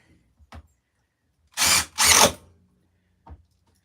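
Power drill driving screws into a new wooden table: two loud, close whirring bursts in quick succession, framed by a few short clicks and knocks.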